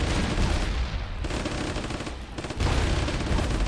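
Gunfire in a video game battle crackles as dense bursts of rapid automatic shots and overlapping blasts, loud and continuous with short gaps, and no voices over it.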